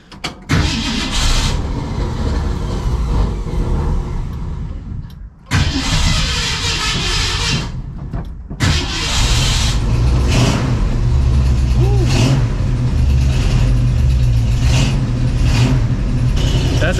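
A 1965 Mustang GT with a Magnaflow exhaust cranks and fires, then revs loudly in repeated bursts with brief drops between, the deep rumble settling into a steady, throaty idle close by.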